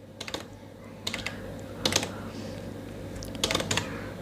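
Fingers typing an Oracle query on a computer keyboard, clustered bursts of crisp key clicks separated by short pauses, close and clear over a low steady hum.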